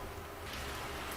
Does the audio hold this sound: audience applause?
no